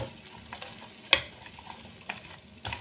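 Bean sprouts cooking in a pan with a little water, soup seasoning and salt being stirred, giving a faint close frying sizzle with a few clear spatula clicks and scrapes.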